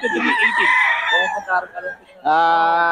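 A red rooster held in someone's hands at an outdoor gathering in Bocaue crows loudly and close, with a long strained call followed by a second clear crow after a short lull.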